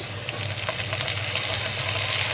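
Ginger paste hitting onions frying in hot oil while a boal fish curry is being made, producing a steady, close sizzle and crackle with no voices.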